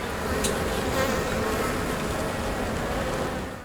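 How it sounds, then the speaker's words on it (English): Honeybees swarm around their hive in a steady, dense buzzing drone that stays loud and constant throughout, with no voices. "There's always a honeybee in the hive."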